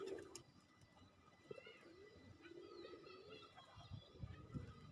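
Several pigeons cooing in a tree, low rolling coos repeating at an easy pace, fairly faint, with a few higher bird chirps mixed in.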